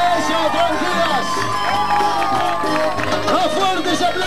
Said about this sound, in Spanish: El aplauso para todas las escuelas y los gurises